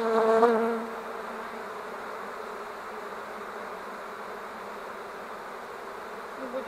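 Honey bees from a swarm that moved into an empty hive buzz loudly and continuously close by, a dense steady drone with a brief louder pass at the start and no talk.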